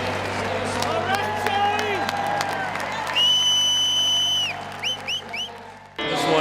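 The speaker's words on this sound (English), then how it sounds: "Here's the round of applause from Gold Country" A crowd applauds and cheers in an arena at a Big Ten college basketball game between the Minnesota Golden Gophers and the Wisconsin Badgers. The noise swells under broadcast commentary, with whistles, a sustained horn-like tone and a sudden cutoff near the end.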